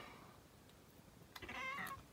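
A house cat gives a short, quiet meow near the end after a stretch of near silence, with a faint wavering tone to the call.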